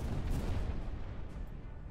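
Ship cannons firing in the pirate naval combat video game Buccaneers: a heavy booming blast at the start rolls into a long, low rumbling decay that fades over about two seconds, with no talking.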